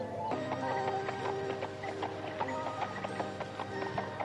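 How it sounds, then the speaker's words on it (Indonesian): Horses clip-clopping as they are ridden along a path, steady irregular hoof knocks at close range over a busy background of voices and scene ambience. "Ki Wista, kuda-kuda ini harus kita tambatkan di sini. Kita tidak bisa meneruskan perjalanan dengan menunggang kuda"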